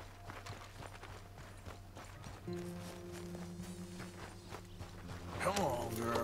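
A horse's hooves clop along a road in Red Dead Redemption 2, a quiet rhythmic footfall pattern under game music and ambient sound, with a voice speaking briefly.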